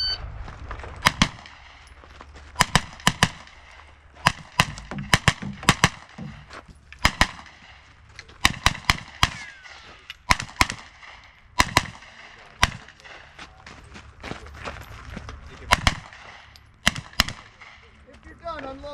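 Sharp, loud gunshots crack in quick strings and scattered bursts across a practical shooting competition stage, with brief pauses between volleys.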